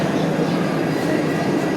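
The new Vande Bharat Express on its inaugural Jalna–Mumbai run pulls into Aurangabad (Chhatrapati Sambhajinagar) with a loud, steady, close rumble of rolling carriages that fills the scene.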